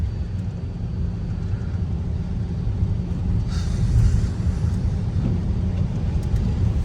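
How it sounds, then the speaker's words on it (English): An older Dodge Journey R/T drives on a winter road, its interior filled with a steady low rumble of engine and tire noise that swells slightly midway, with no talking. "Back on the road, doing some doomsday driving here in the old Dodge Journey RT."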